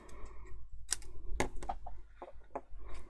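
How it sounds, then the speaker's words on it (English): Scissors trim the sides off a cardboard box for a Halloween chest-of-drawers craft, a quiet series of irregular crisp snips and crunches at close range, with no one speaking. "So let's grab the scissors. I'm just going to trim off these sides there."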